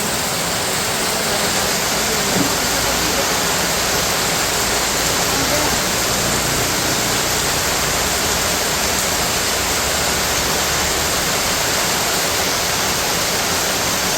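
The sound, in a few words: heavy rain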